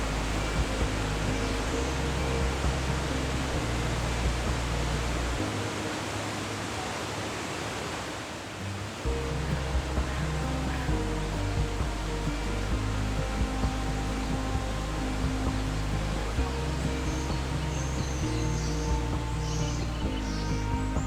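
Waterfalls in a Costa Rican jungle roar as a constant broadband rush of falling water, steady and full, with a brief dip partway through before the heavy wash resumes.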